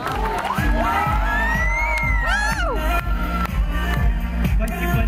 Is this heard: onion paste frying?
no